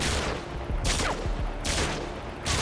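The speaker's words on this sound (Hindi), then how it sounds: "देखो, फायरिंग पे फायरिंग, फायरिंग पे फायरिंग।" Gunfire in Call of Duty: Modern Warfare 2 rattles in repeated loud bursts, with rapid volleys following one another almost without pause.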